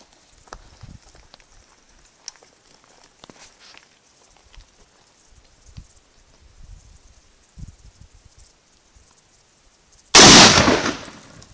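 A single loud, close rifle shot at a target, a sharp blast that rings out briefly after a stretch of quiet shuffling and faint footsteps.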